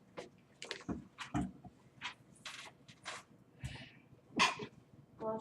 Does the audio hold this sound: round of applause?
no